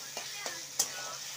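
Garlic and ginger paste with spices frying in a pan, a soft steady sizzle broken by a few quick stirring scrapes over just over a second.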